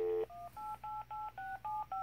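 A phone keypad dials a hotline number: a quick burst of tones, then a steady run of evenly spaced single beeps, clear but fairly quiet.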